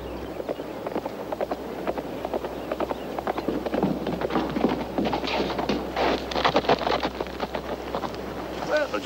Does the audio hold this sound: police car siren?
no